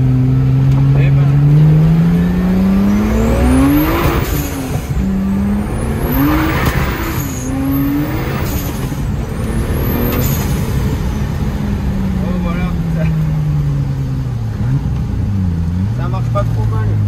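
A turbocharged BMW E36 with a newly replaced camshaft drives hard, its engine note rising and falling through repeated gear changes, with turbo whistle sweeping high and steady road and wind noise underneath, with a voice talking over it.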